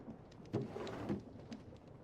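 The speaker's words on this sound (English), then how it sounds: "The runic tablets spawn lightning, so I just use these." Rumbling thunder from lightning summoned by runic tablets in a modded block-building game, a couple of low cracking booms rolling over a rain-like hiss at moderate level, no voices.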